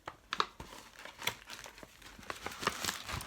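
Paper mail package being opened by hand, with a string of crisp crinkling and tearing rustles, close and fairly loud, in irregular bursts without speech.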